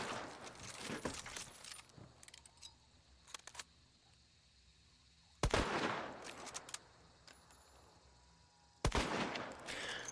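Bursts of gunfire from the shooter game Hunt: scattered clicks and metallic handling noises, then two sharp loud shots a few seconds apart, each trailing into a short echoing decay.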